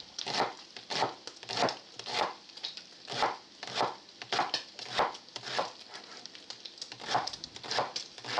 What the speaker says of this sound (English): slice it into nice, no more than 1/4 inch slices